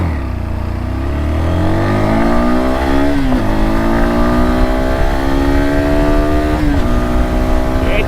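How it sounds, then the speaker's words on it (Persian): A Galaxy NH250 motorcycle accelerates hard from a standstill toward 100, its engine climbing steadily in pitch with two quick gear shifts. The sound is close, loud and continuous, with no talking. "میخوایم بریم برای 0 تا 100 و تاپ اسپید ببینیم موتور چه جوری میره"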